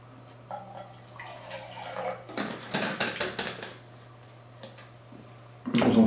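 Water and a dash of washing-up liquid poured into a Jetboil Zip cooking pot, a close splashing pour with clinks of the metal pot, rising to a louder burst of sloshing at the end, with no talking.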